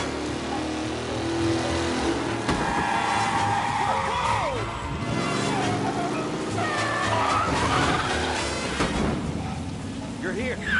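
A race car speeds through city streets in the Mafia video game, with a loud, sustained engine roar and tire skids amid busy game sound.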